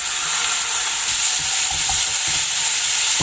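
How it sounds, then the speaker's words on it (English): Finely chopped tomato goes into a pan of frying dal masala with red chili powder and is stirred, bringing a steady, bright sizzle with soft scraping from the spoon throughout. "Now to this I'm going to add 1 large size tomato which is finely chopped."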